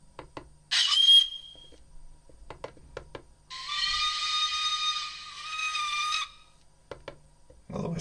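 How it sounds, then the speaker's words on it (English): A Hornby TT:120 model locomotive's sound decoder plays a steam whistle: a short shrill blast, then a longer sustained whistle of about three seconds, amid quiet chuffing and mechanical clanks. "Here's the whistle."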